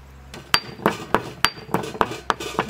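Two cardamom pods being pounded into powder for a jaggery ice candy, about eight sharp, evenly spaced hard knocks with a clinking ring, close and clear with no talk.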